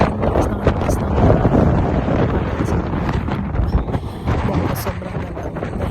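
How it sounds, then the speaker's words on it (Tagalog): Strong, cold sea wind buffeting the microphone in heavy, uneven gusts, with a low roar throughout and faint voices mixed in. "Grabe yung hangin"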